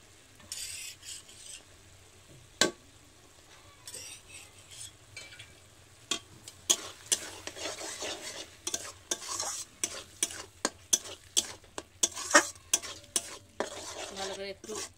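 Curry fries in a pan as a spoon stirs and scrapes against it, sharp repeated clinks over a low sizzle that grow busier toward the end, close and without talk.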